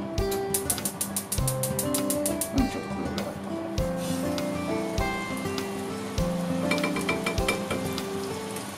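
Ground meat and edamame tsukune frying in sesame oil in a pan, giving a steady, close, loud sizzle with crackling, overlaid by sustained tonal music, with no talk.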